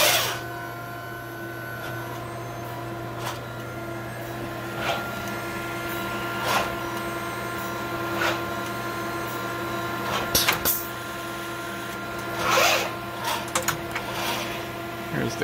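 A DEK Horizon 02i stencil printer runs its cleaning function, a steady mechanical hum with tonal whine and oscillator buzz, punctuated by intermittent clicks and brief bursts, with faint speech at times.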